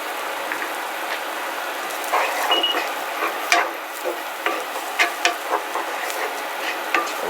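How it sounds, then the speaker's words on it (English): Something sautéing in a hot pan before garlic goes in for black pepper chicken chops, a soft sizzle under a run of distinct clinks and scrapes from stirring. "we're just going to saute this for a few seconds"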